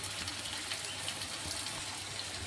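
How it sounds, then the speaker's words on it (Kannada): Water poured into a pan of cut potatoes fried in oil, a steady close rushing gush that runs evenly for a couple of seconds with no talk over it. "ಇದಕ್ಕೆ ಸ್ವಲ್ಪ ನೀರು ಹಾಕೊಳ್ಳೋಣ"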